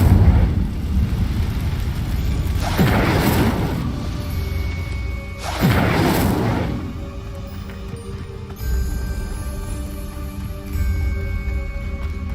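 Incendio fire spell effect, two loud whooshing bursts of flame a few seconds apart, each flaring and fading, over a low rumbling background.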